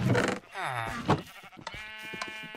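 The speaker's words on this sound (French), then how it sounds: "les pauvres moutons, ils ont rien demandé" Sheep in the Minecraft video game bleat in a few short wavering cries, clear and close, with a brief bit of talk overlapping.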